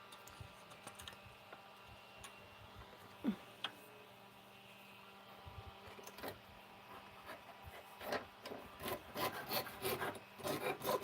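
Quiet, rasping strokes of a hand saw cutting wooden bookmarks, sparse at first, then quicker and louder toward the end, with no voices.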